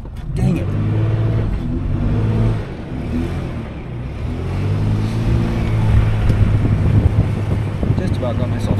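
A vehicle's engine revs and strains as its tires churn through deep, fine volcanic ash and pumice sand in desert dunes, nearly getting stuck. The engine noise is loud and steady throughout, with a voice talking over it.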